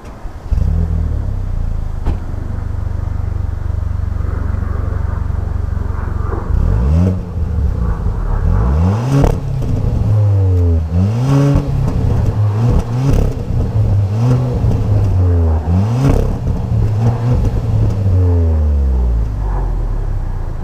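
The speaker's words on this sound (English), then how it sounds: "let's go get an exhaust clip to see how that sounds" A 2019 Hyundai Veloster Turbo idles with a deep exhaust burble, then the engine is revved repeatedly in sharp rising and falling bursts, loud and close.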